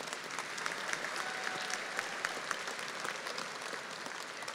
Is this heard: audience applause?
yes